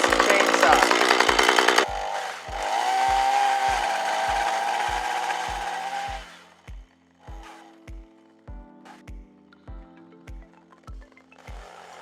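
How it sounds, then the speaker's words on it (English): A long-reach chainsaw roars loudly at full throttle, bogging as it bites into a tree branch, then drops to a sputtering idle with steady rhythmic thumps beneath. "World's longest chainsaw."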